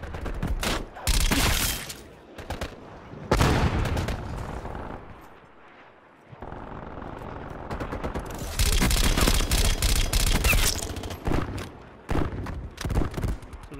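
Gunfire in Call of Duty: Black Ops Cold War, loud bursts of rapid automatic fire separated by a short lull, then dense sustained shooting with sharp single cracks near the end.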